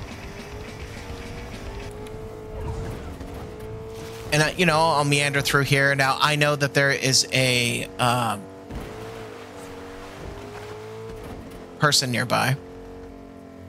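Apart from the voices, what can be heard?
car driving in a video game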